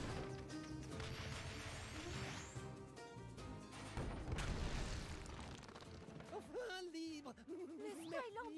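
Booming cannon blasts and crashing impacts from Skylanders: Spyro's Adventure, loud and layered over game music, with a voice speaking near the end.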